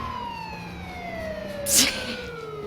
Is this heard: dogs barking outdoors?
no